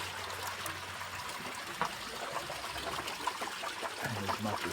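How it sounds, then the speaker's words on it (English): Water runs steadily from standpipes in a fish tank system, a constant trickling and splashing rush that continues throughout at moderate level with no talk. "as much as we love the sound of running water, it's a bit difficult to hear. So they're just on standpipes."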